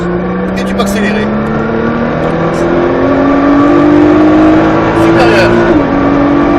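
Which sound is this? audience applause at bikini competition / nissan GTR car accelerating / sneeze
nissan GTR car accelerating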